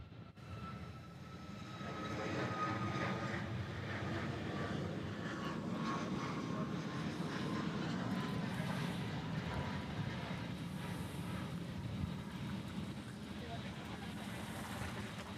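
A fixed-wing airplane roars steadily at Honolulu airport, a broad, sustained engine rumble rising in from near silence and holding loud for the rest of the stretch.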